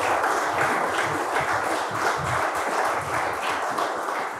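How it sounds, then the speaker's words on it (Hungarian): Applause for a newly elected town mayor at a political conference, a dense, steady wash of clapping from a large audience lasting throughout, fairly loud and even. "akkor neki is kérek egy tapsot"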